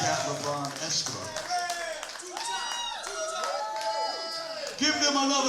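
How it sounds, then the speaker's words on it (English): Scattered clapping from the crowd at a boxing hall of fame induction ceremony, mixed with cheering voices, chatter and music, steady throughout with a louder swell near the end. "Give them another round of applause"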